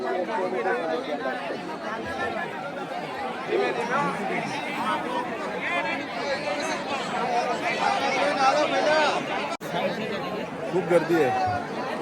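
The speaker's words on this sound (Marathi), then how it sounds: "तिसरी घोडी उतरायला भरपूर गर्दी आहे" Crowd of pilgrims heading downhill at the Girnar parikrama fills the air with loud, unbroken chatter and overlapping voices, steady throughout with a momentary gap toward the end.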